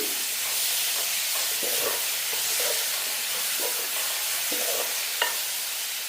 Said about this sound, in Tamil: நாங்கள் இனி தக்காளி பழத்தையும் போட்டு கிளறுவோம்